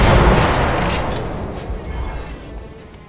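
Video game gunfire in The Chronicles of Riddick: a burst of sharp machine-gun shots and booms at the start that fades into a decaying rumble.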